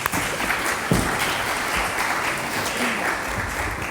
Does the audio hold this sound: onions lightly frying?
no